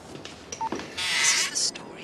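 Quick electronic dialing tones from a telephone keypad, a few short beeps followed by a brighter burst of tone, heard close and alone without talking.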